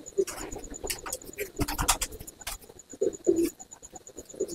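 Pigeons in a loft give soft, scattered coos, several short throaty calls near at hand among light scratching and shuffling, with quiet gaps between.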